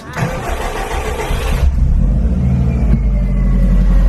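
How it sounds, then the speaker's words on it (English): A Subaru WRX with an aftermarket exhaust starts up in a parkade, a burst of noise giving way to a loud, deep, steady idle rumble echoing off nearby walls. "it's not too loud, but you can tell it was an aftermarket exhaust"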